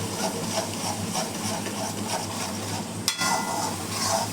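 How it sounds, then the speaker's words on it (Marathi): Ground masala paste sautéing in hot oil for a paneer and peas curry, a steady close sizzle with stirring scrapes and one sharp clink of a utensil against the pan. "वाटण घालून चांगलं परतून घ्यायचं."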